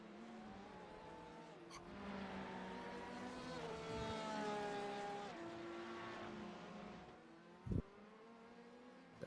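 A Ronin Sim Sports GTE car in a sim racing event at Spa, its engine note rising and holding as it comes down the hill toward the line, a steady tonal drone with a brief sharp click near the end, no speech.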